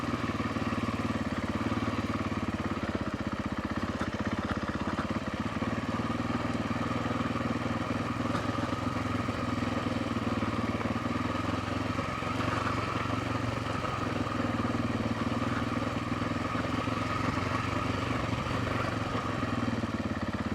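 A heavy, freshly fuelled motorcycle rides a rough trail near Helmsley, its engine droning steadily and close for the whole stretch with a continuous mid-pitched hum and some clatter, no speech over it.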